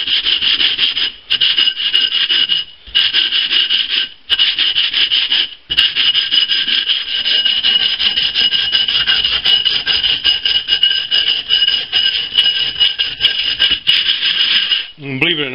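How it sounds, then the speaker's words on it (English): Steady back-and-forth rubbing of 80 grit sandpaper against the cut edge of a glass bottle, close and loud, a continuous gritty scraping broken by a few short pauses as the bottle is turned. "if your edge isn't perfectly straight and you want it perfectly straight, sandpaper will sand it down"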